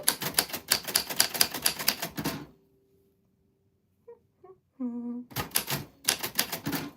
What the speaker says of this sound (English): the typewriter's so old that you have to go really slow